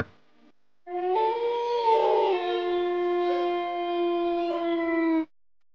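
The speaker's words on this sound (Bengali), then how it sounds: "শুধু দূর থেকে ভেসে আসছে শেয়ালের ডাক।" Jackals give a long, sustained, wavering howl in a dense jungle at night, steady and clear for several seconds before cutting off.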